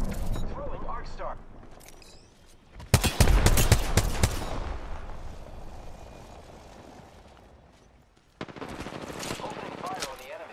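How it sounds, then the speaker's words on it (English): Bursts of video game gunfire crackle loudly in a tight cluster, then fade into a lingering rumble before another burst of shots near the end, with a voice talking before the shooting. "Opening fire on the enemy."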